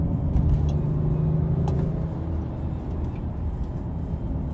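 A diesel vehicle weighing over two tonnes drives along a road, heard from inside as a steady low engine rumble and road noise with a few faint clicks and no voices.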